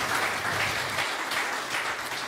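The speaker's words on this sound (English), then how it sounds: "big hand of applause for Samuel, Reto, and Moritz." An audience applauds at a live jazz concert, a brief full burst of dense clapping that stays loud and even throughout, with no voices over it.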